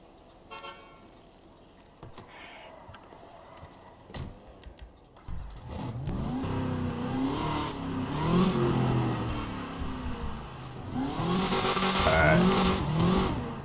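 A drifting car in GTA V, played on a FiveM server, revs its engine with tire squeal, rising and falling in surges that grow louder toward the end, alone with no talk.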